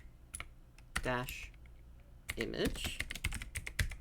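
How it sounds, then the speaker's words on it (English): Typing a DISM command on a computer keyboard during Windows troubleshooting; scattered key clicks and taps spread over several seconds, with a voice speaking briefly in the middle. "Now type in DISM space /online"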